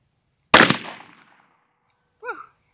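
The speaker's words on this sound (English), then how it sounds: "looks like I'm shooting low with the 9" A single sharp 9mm pistol shot at a target cracks loudly and rings out, followed a moment later by a short distant metallic ping.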